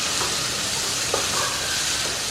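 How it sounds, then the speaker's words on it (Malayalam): Ginger, shallots and green chillies frying in hot oil, giving a steady close sizzle with soft crackles and a light stir or two for an Onam puli inji recipe. "അതിലോട്ട് നമുക്ക് ഈ ഇഞ്ചിയും ഉള്ളിയും കൂടി ഇട്ട് നല്ലതുപോലെ ഫ്രൈ ആക്കി എടുക്കണം"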